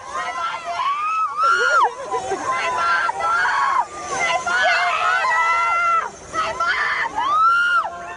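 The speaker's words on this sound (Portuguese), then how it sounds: "mais gritaria dos familiares" Relatives of prisoners being transferred shout and scream at an airport, a loud, agitated crowd of overlapping voices that continues throughout with brief dips.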